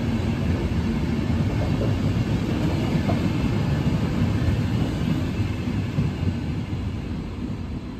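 Passenger train rolling into a station platform at Žilina, a loud continuous rumble of wheels and rail noise close by, easing slightly toward the end.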